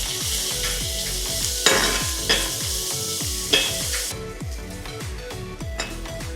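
Garlic cloves and chopped onion sizzle steadily in hot butter in a kadai, with a spatula stirring and scraping in a regular rhythm and a few louder knocks against the pan.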